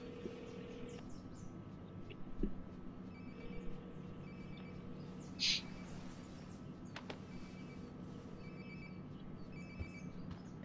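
In the video game Life Is Strange, a phone rings nearby in faint, repeated electronic trilling bursts over a quiet background hum, with no one talking.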